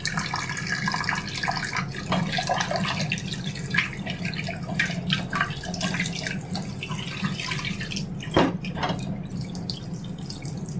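Rohu fish being washed by hand under running water in a kitchen sink, a steady stream of tap water with splashing, dripping and scattered handling knocks, close and continuous, no talk.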